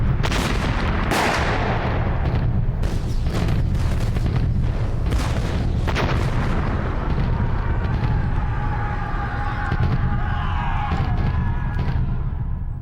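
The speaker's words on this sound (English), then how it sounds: "After 3 days of heavy bombardment," Artillery bombardment from the Crimean War, a barrage of heavy booms and gunfire cracks fired in quick irregular succession, loud and close, with rumbling echoes trailing off.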